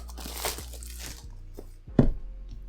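Plastic wrapping on a HomePod mini box is cut and pulled away, with brisk crinkling and tearing at first, quieter rustles after, and a sharp crunch near the end.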